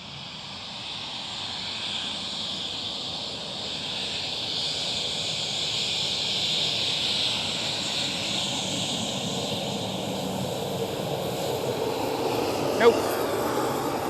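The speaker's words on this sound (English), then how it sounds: "KLM Cityhopper E175. Captain has the window open already." A KLM Cityhopper Embraer E175 jet at Amsterdam Schiphol gives a steady engine whine and roar that builds gradually, with a sharp click near the end and voices faintly in the background.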